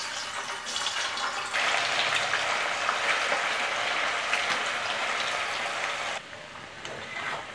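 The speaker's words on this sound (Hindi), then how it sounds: "अब हम इसमें सारे पनीर के क्यूब्स हल्के गोल्डन ब्राउन होने तक फ्राई कर लेंगे।" Paneer cubes deep frying in hot oil in a kadai, a loud, dense, continuous bubbling sizzle up close that eases slightly near the end, with no voices.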